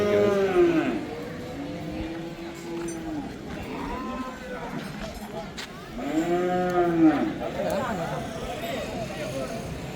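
Cattle mooing at a crowded Pongal cattle gathering in Jaffna, several long low calls from different animals near and far, over steady crowd chatter and people talking.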